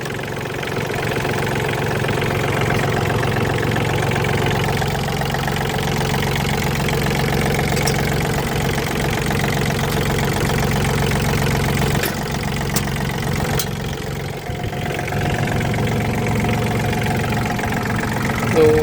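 A Yanmar EF312 tractor's engine idles steadily and loudly up close, a continuous low diesel rumble with a faint knocking rhythm and no voices over it.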